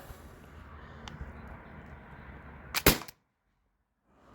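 A modded Byrna less-lethal launcher fires a single Salt Supply 3.7-gram impact round. The shot is a sharp, loud crack with a brief burst and stands out from the low room noise. Silence follows.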